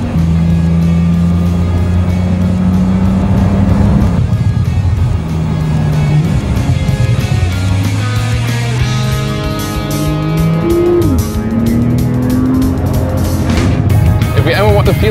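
A Porsche 911 Turbo S (991) engine drones and shifts pitch as it accelerates through gears on the Bilster Berg racetrack, steady and close, with a voice talking over it.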